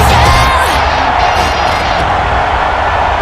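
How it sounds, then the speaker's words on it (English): The home crowd at a St. Louis Cyclones hockey game roars loudly and without a break after the team takes its first lead. It is a dense, continuous arena din with no talk. "the home crowd, you can hear them, they're into it"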